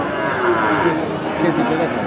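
A crossbred dairy cow with her calf lows in a deep, drawn-out moo amid crowded cattle market chatter, the call rising and falling twice over the background noise.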